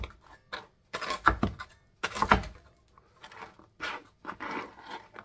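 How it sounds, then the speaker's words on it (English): A knife cuts bread into chunks, giving several short, crisp crunching and sawing bursts separated by pauses, close and moderately loud, with no talking. "So I'm just going to cut up the bread here."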